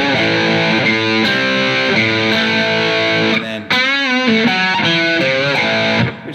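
Distorted electric guitar plays a riff, heavy sustained chords and bending melodic phrases ringing loud and alone, with a short break near the middle before the riff resumes.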